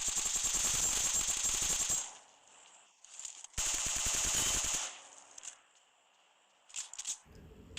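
Gunfire in a shooting video game comes as two loud bursts of rapid automatic fire, each lasting about a second and a half, with quieter scattered shots and clatter between them.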